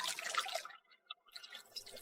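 Water trickles and drips while a wine pot is washed, a brief run of splashing followed by a near-silent pause with one small drip, then light splashing resumes, close and fairly quiet.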